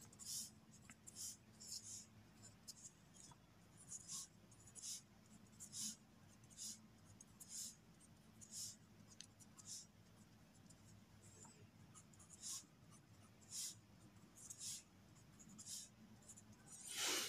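Pen writing a sequence of numbers on paper, with repeated short scratchy strokes in quick bursts, close and fairly quiet over a low steady room hum.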